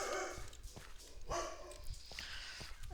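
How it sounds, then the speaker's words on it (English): A puppy yips and barks now and then behind a steady, noisy background bed, faint and some distance away. "A puppy in the background."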